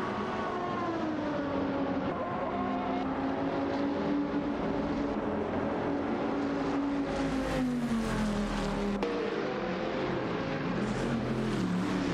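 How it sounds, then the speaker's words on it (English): A race car on an AI racing circuit roars past, its engine note rising and then sliding down in pitch as it speeds away, loud and steady with no talk. "Racing car dashing away"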